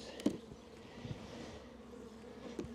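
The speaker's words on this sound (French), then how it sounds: "j'ai encore quelques abeilles là" Honeybees buzzing around a hive that is being robbed, a soft hum with a few louder bees passing close by.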